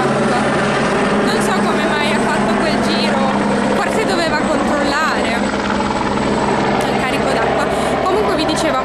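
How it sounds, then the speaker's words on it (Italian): Helicopter flying very close over a house near a woodland fire, a loud, continuous rotor and turbine roar dominating throughout, with people talking beneath it. "Abbiamo solo visto questo elicottero volare vicinissimo a casa"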